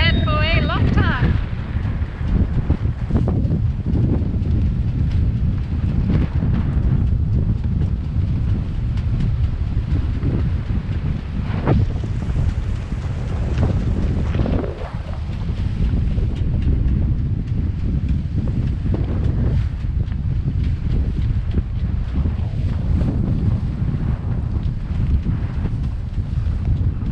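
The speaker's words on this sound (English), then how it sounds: "this is the most wind we've had for a long time" Strong offshore wind buffeting the microphone on a fishing boat at sea during a fishing competition, a loud continuous roar and rumble with gusting surges, voices faintly mixed in.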